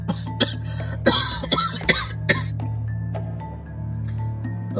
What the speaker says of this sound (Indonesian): Tauke besar diam sebentar, terbatuk.